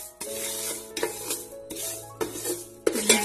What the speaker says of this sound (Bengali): আমরা মুগ ডালটাকে ভেজে নেব শুকনো